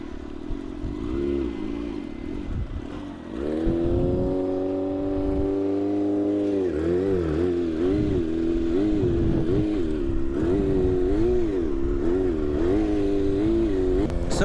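A 600cc motorcycle engine during stunt riding idles roughly, then rises into a sustained wavering rev that dips and recovers as though near stalling, loud and close throughout with no voices.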